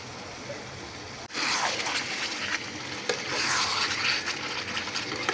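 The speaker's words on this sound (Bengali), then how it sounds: "আমি এখন মাংসটা নাড়াচাড়া করিয়ে দিয়া একটু ডাকিয়া দিলাম মাংসটা" Steady sizzling and frying of meat in a pan, with scraping stirring sounds starting abruptly and continuing throughout.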